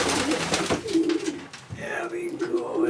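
Racing pigeons coo close by in a loft, soft repeated throaty calls mixed with rustling and someone speaking over them.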